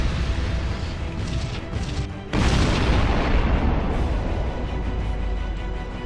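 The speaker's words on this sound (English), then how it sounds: "Prepare to fire the cannon." A loud cannon blast in the space strategy game Sunrider erupts at about two seconds, followed by a sustained rumbling roar of battle fire and crashes that stays heavy to the end, with no talk.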